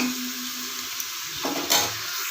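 Mint and coriander frying in oil for Ambur mutton biryani, a dense continuous sizzle with a brief stir near the end, close and steady, with no speech.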